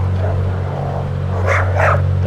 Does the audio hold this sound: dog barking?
yes